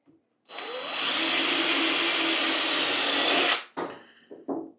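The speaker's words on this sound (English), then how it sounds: "Stick the hinges in here, and then I'm gonna use a drill bit." A power drill with a bit bores hinge holes into an interior door, whirring loudly and steadily for about three seconds up close, followed by two brief, shorter bursts.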